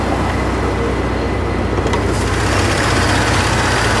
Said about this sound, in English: Car's running, idling normal and fine.